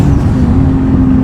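Nissan Skyline R34 GTR on rolling anti-lag in the rain, a loud steady engine drone close up with a sustained tone, no talk.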